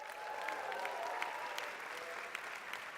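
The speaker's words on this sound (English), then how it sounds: "I want a big round of applause to our director, Wim Gabriels." Audience at a European Universities conference applauding steadily for a few seconds, a dense patter of many hands clapping in a hall, moderately distant.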